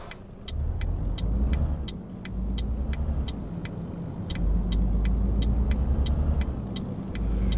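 Truck engine in Euro Truck Simulator 2 rumbling steadily as it drives, a deep continuous drone with regular ticking clicks like a turn signal layered on top, and no voices.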